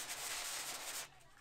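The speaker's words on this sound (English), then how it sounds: "now I'm block sanding this with 80 grit to really just knock this down" Sandpaper of 80 grit rubbing hard fiberglass on a block during a 1992 Ford F-150 cab corner repair, a steady close scraping that runs about a second and then cuts off.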